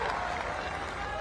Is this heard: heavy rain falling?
no